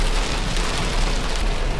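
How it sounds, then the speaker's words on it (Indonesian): Heavy rain pours down steadily near Purwokerto, heard from inside a Vinfast VF3 on a road trip, a loud, dense, unbroken hiss of drops with no one speaking. "Dan hujan guys, deras sekali."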